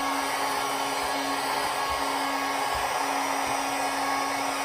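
Hot air tool blowing steadily to soften industrial hot glue on velvet ribbon, a constant near whooshing hiss with a faint hum, lasting throughout with no talking.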